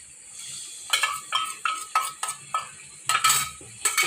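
Spoon stirring milk-mixed masala into a cashew curry gravy in a pan, a series of about eight quick scraping, clinking strokes in an irregular rhythm, close and fairly quiet.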